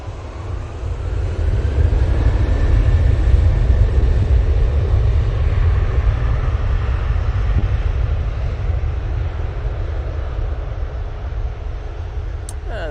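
A TUI jet airliner departing Manchester Airport, a loud, deep engine roar with heavy low rumble that swells early, then holds steady and slowly fades while wind buffets the microphone.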